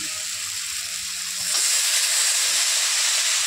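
Leafy greens dropped into a hot pan already holding fried brinjal set off a louder, steady hissing sizzle that swells about halfway through and stays even to the end.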